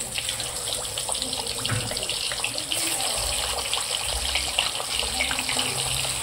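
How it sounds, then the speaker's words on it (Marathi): Fish pieces hit very hot oil on a high flame, giving a continuous dense hiss and crackle of frying, steady and close, with no talking. "तेल आपलं चांगलं कडकडीत गरम झाले, आता त्याच्यात हे पीस टाकून घेऊ आपण"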